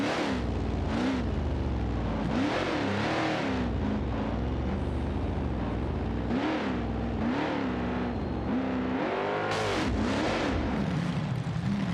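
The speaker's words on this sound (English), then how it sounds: "This is a 1981 Dodge tow truck" A 1981 Dodge tow truck with a heavy, fully functional tow bed revs its engine in a Beam motorsports competition, the pitch climbing and falling repeatedly in a loud, continuous run.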